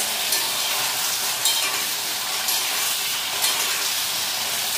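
Spice paste fries in a hot pan with a steady, loud hiss and crackle, the sizzle rising in a few brief surges as it is stirred, with no talking.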